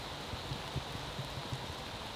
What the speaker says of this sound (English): it started to hammer down with rain now